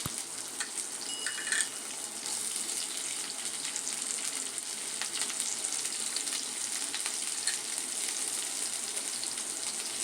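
Two thinly sliced onions fry in oil with cumin seeds for onion rice, making a continuous, even, hissing sizzle at moderate level with faint stirring ticks and no speech.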